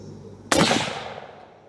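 A single loud 300 PRC rifle shot cracks during ammunition testing at a range, followed by a long trailing boom that fades over about a second in otherwise quiet surroundings.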